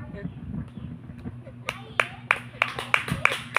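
Several people clap at a garden prayer meeting in a burst of sharp, rhythmic claps, roughly evenly spaced. Murmuring voices run underneath beforehand.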